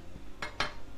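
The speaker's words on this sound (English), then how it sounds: "So you just keep whisking it." Whisk strokes scrape and clink twice against a metal sauté pan of vegan gravy, two quick close bursts in a short moment.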